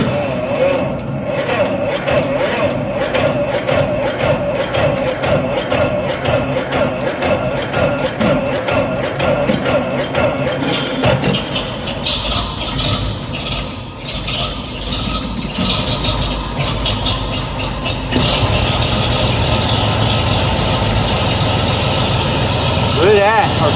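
A 1914 Pierce Arrow engine is hand-cranked and catches, settling into a loud, steady running clatter close up. Its rhythm and tone shift partway through.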